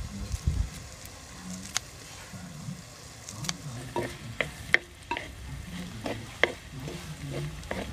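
Crushed ginger and garlic sizzle softly in hot oil with onions for a Kerala mussel curry, with a quiet steady fry broken by scraping stirs and clinks of a spoon against the pan.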